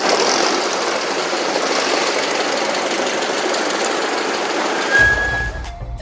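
A motor boat engine drones steadily and loudly, a continuous close rumble that cuts out abruptly near the end.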